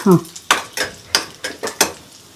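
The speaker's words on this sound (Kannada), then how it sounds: "ಎಣ್ಣೆ ಕಾಗಿದೆ ಸಾಸಿವೆ ಜೀರಿಗೆ ಉದ್ದಿನಬೇಳೆ ಕಡಲೆಬೇಳೆ ಒಣಮೆಣಸಿನ್ಕಾಯಿ" Mustard seeds, cumin, urad and chana dal and dried chillies temper in hot oil with a little ghee. A spatula scrapes the pan in about five sharp, rhythmic strokes over a soft sizzle.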